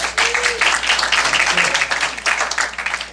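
Meeting audience breaks into steady applause, a dense patter of clapping held at moderate loudness across the whole stretch over a low mains hum.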